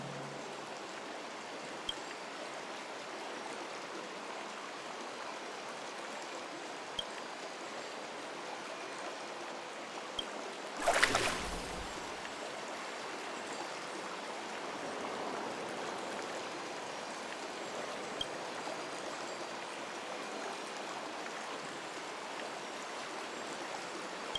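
Water flowing steadily in a bath in the game Honkai Star Rail, a soft continuous trickling wash with one brief louder splash partway through.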